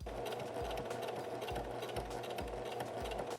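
A sewing machine runs continuously at speed, a rapid mechanical whir with regular rhythmic thumps from the needle.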